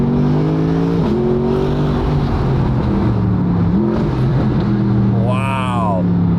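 A Mercedes SLS Black Series with a naturally aspirated V8 cruising by a lake, its deep engine drone steady and close with gear-change shifts in pitch and a brief rising rev near the end.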